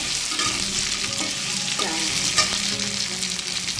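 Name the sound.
potatoes frying in a pan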